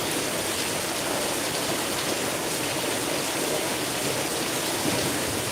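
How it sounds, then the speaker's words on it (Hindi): Heavy rain falls steadily as a dense, even hiss, continuous and fairly quiet, with no voices. "ये देखिए मेरे यहाँ कितनी बारिश हो रही है आज"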